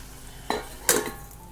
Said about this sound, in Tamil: இப்போ இதை நம்ம ஒரு 5 நிமிஷத்துக்கு தட்டு போட்டு மூடிடலாம்